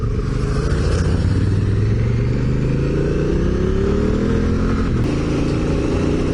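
A Yamaha T7 or Honda Africa Twin adventure motorcycle engine drones steadily from the rider's position, pitch climbing gradually as it accelerates, with constant rumble and wind throughout.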